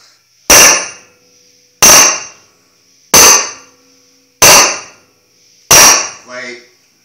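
Five loud, sharp metallic hammer strikes at an even pace, each ringing briefly before fading, with a short voice after the last blow.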